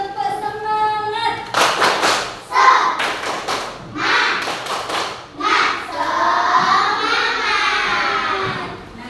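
A second-grade class performs the rhythmic 'tepuk semangat' clapping chant, with bursts of sharp claps in patterned groups alternating with children's chanting voices.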